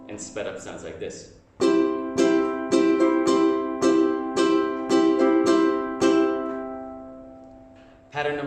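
A ukulele strummed in a quick pattern, about a dozen bright ringing strums in steady rhythm, close and loud, with a short hum of talk at the start and a final strum at the end.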